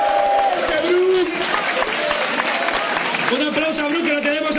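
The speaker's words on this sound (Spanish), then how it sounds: "aplauso a Brook, que lo tenemos aquí" Fan convention crowd applauds a Brook cosplayer, a steady wash of clapping under a speaker's voice throughout.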